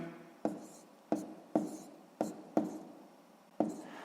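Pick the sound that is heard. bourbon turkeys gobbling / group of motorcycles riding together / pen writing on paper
pen writing on paper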